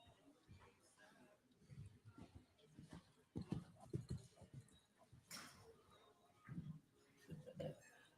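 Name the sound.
horse hooves clip-clopping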